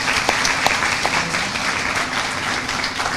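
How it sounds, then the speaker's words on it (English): Steady applause from a ceremony audience honoring parents and family, dense continuous clapping with a few sharper nearby claps, moderately loud throughout. "I also want to have a round of applause for all the parents who have supported you"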